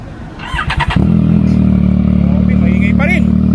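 A 2022 Yamaha MT-09 motorcycle with an aftermarket exhaust cranks and fires into a loud, steady close idle, with a few quick blips of the throttle, while a voice talks briefly over it.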